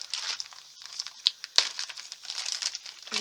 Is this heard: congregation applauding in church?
no